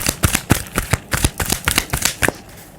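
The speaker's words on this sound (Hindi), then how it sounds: "थोड़ी सी कार्ड्स मैं आगे और शफल करूँगी" Tarot cards are shuffled close by in a steady series of loud, rhythmic slaps and riffles lasting a few seconds, with no speech over them.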